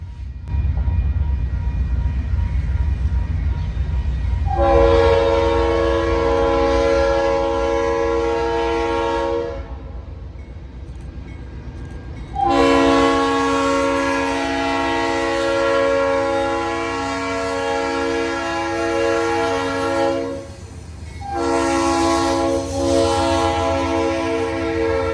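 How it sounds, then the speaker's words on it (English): A long freight train rolls through Bradford, Pennsylvania on the Buffalo and Pittsburgh line, its horn blasting in loud sustained chords over a steady low rumble, with three separate sounding bursts across the pass. "we see SIRI bringing his longer train now through Bradford, Pennsylvania."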